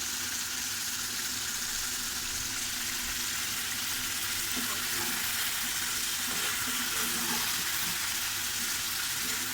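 Curry sautéing in a pan gives a steady, even sizzle throughout, moderately loud and close, with faint scraping and stirring touches near the end and no talking.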